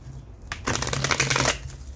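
Tarot cards being shuffled by hand, a close, fast riffling flutter lasting about a second, bracketed by quieter handling noise.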